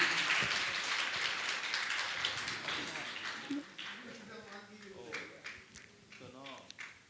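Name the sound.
applause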